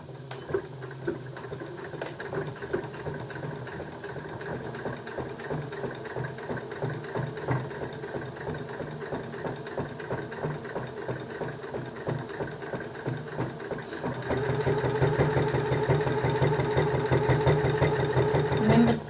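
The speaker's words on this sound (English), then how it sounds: "we're just going to stitch all the way around and stitch our exposed core to our topper" A sewing machine stitches around a cloth menstrual pad with an exposed core, a fast steady mechanical whirr with a regular needle rhythm that gets louder and busier in the last few seconds.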